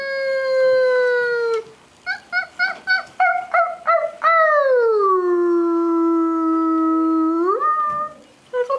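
Pointer dogs at a vet clinic howl up close and loudly: one long held howl, then a run of short choppy yips, then another sustained howl that rises at the end, with no talking over it.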